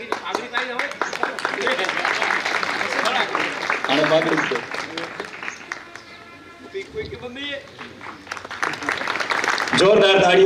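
Loud applause from an audience at an honouring ceremony, a broad roar of clapping mixed with voices and music that dips midway and swells again, with a speaker talking over parts of it.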